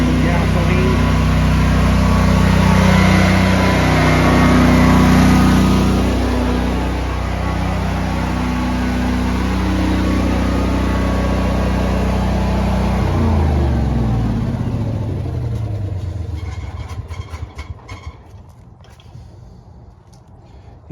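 Honda EU11000 generator running steadily under load on natural gas, a loud close engine drone that holds for several seconds, then winds down and sputters out near the end, with a voice briefly over it.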